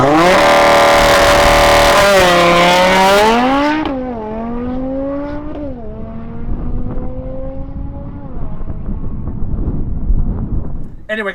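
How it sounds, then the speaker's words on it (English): A big-turbo Audi RS3 drag-racing car revs hard, its engine pitch climbing through several gear changes, loud at first and then quieter and more distant as it pulls away. "so that's what the RS3 sounds like."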